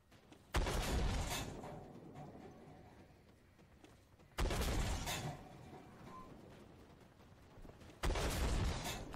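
Three heavy booming blasts from a 2S3 Akatsiya self-propelled artillery gun in the tank game Armored Warfare, spaced a few seconds apart, each a sharp loud onset that fades into a long rumbling decay.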